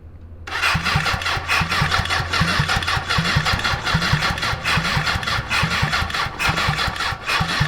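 Starter cranking a 750cc engine-swapped Suzuki four-wheeler on a weak battery, a rapid, steady chugging rhythm that turns over continuously and loudly without catching.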